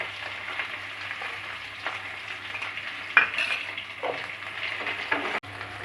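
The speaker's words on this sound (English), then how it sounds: "So like this we have to fry it" Steady close sizzling of potatoes frying in a pan with turmeric and salt, with a few scrapes and clinks of a utensil stirring, and no talking.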